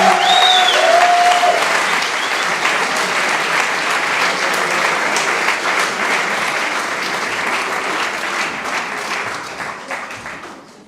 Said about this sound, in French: le reste du public va vous accueillir sous un tonnerre d'applaudissements